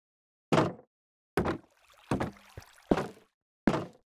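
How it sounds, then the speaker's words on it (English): Minecraft fence gates opening and closing in a video game, five short wooden clacks spaced about a second apart, crisp and close with nothing else around them. "And opening and closing fence gates."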